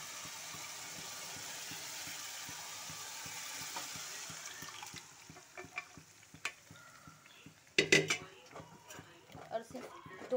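Masala cooking in a pan on a home stove gives a soft, steady sizzle. Spoon scrapes and clinks against the pan grow louder toward the end.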